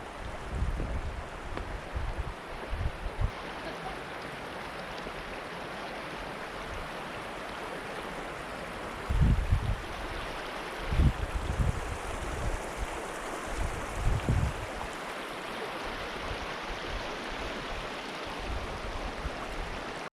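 Steady rushing river rapids below a waterfall in Grand Teton National Park, a broad continuous roar with occasional low thumps and wind buffeting on the microphone.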